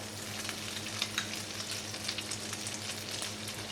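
Slices of brioche soaked for pain perdu sizzle and crackle steadily in a hot frying pan, a soft, even frying hiss with small pops, close and fairly quiet, no talking.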